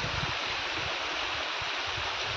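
Constant rushing hiss of a forest waterfall, steady and fairly close, with a few low rumbles beneath and no voices.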